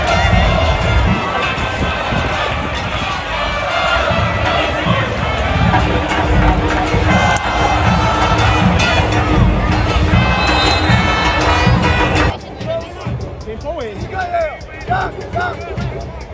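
Football fans of Botafogo in Paraíba chant in a stadium, a loud, dense crowd roar with rhythmic shouting, under a commentator's narration, thinning toward the end.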